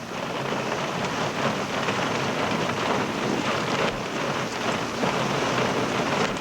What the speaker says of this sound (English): I thought we'd wait out this rain, okay?